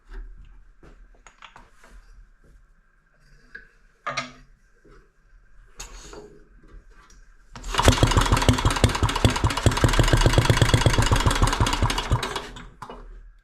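A 1963 Briggs and Stratton model 14 engine sputters through weak start attempts, then catches and runs loud and steady with a rapid, even firing beat for several seconds before cutting off abruptly.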